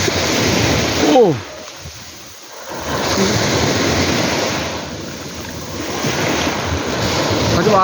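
Surf crashes and rolls onto the shore in broad, continuous swells with a brief lull, wind gusting against the microphone and a voice heard briefly.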